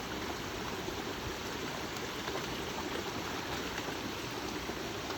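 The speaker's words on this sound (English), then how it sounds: "If you like that waterfall, looking at that." A small waterfall pours into a pond in a steady, even rush of flowing water that continues unbroken without voices.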